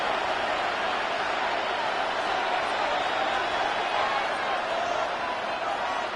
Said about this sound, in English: The crowd cranking it up another notch before 3rd and long.